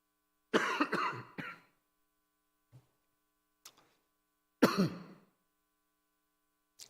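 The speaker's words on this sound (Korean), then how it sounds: "제가 기침하는 건" Two bursts of harsh, close coughing a few seconds apart, each a quick cluster of coughs, with faint throat noises in the quiet between.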